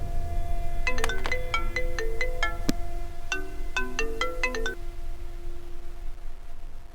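A phone ringtone plays a bright, bell-like melody in two bursts, with a short gap between them, fairly loud over a low background hum.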